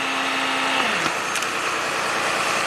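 The engine of a 2021 Ram tow truck with its PTO engaged runs loud and steady, its pitch dropping briefly before holding at a high, continuous drone.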